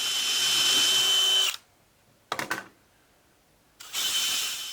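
A power drill bores a hole into a wooden cleat to seat a bolt head. It opens with a loud, steady whir, cuts out, gives a short burst of rattling clicks, then whirs loudly again at close range.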